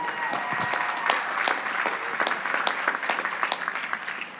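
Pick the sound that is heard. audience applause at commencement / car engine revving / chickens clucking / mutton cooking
audience applause at commencement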